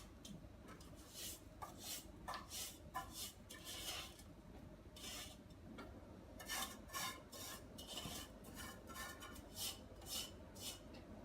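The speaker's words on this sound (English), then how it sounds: "And then you will need to stir it until it has dissolved" Sugar being stirred into a marmalade mixture in a saucepan, with repeated scraping and rasping strokes of a spoon against the pan, steady and close, with no talking.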